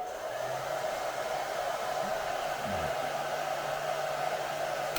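A hair dryer running on a BLUETTI EB3A portable power station at low heat and low fan speed gives a steady, even whoosh that holds unchanged throughout, with a few faint clicks underneath.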